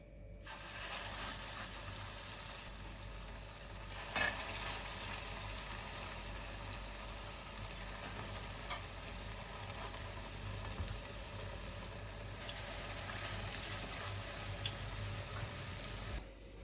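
Lentil fritters frying in hot oil give a steady, close crackling hiss that runs unbroken, with a few sharper pops scattered through it and no voices.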